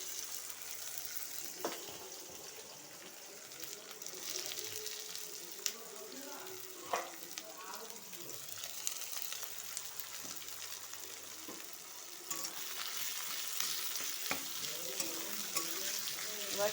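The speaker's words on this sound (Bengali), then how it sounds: "এবার পেঁয়াজটা একটু ভাজা ভাজা হবে" Chopped onions fry in a pan for a spicy red egg curry, giving a steady sizzle with occasional stirring and clinks of a utensil, close and fairly loud with no speech over it.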